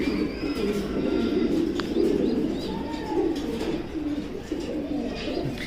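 Racing pigeons coo steadily in a loft, a continuous overlapping murmur of low throaty coos with faint chirps and occasional wing flutters, fairly close and unbroken throughout.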